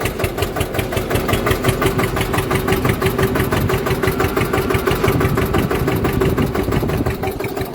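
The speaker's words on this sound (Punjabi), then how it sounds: "ਟਰੈਕਟਰ ਲਾ ਰੱਖਿਆ ਜਨਰੇਟਰ ਤੇ" Loud, steady chugging of a tractor engine running a generator close by on a farm, an even rapid thumping rhythm that never lets up for the whole stretch.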